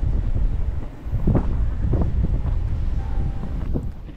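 Strong wind on a mountain in Zambales roars and buffets the microphone in a steady, loud rush with gusty surges, and no voices can be heard.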